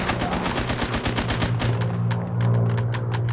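Rapid gunfire from a T-bolt sniper and other weapons in an Uncharted 3 team deathmatch on the Airstrip map, dense overlapping shots with a steady low engine drone underneath, loud and continuous.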